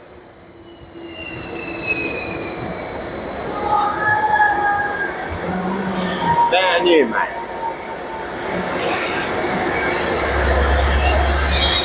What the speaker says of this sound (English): we're on Norwich Station and here comes our train.